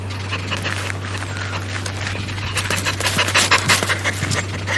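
An excited dog pants rapidly and steadily up close, its quick breaths running continuously over a low, constant hum.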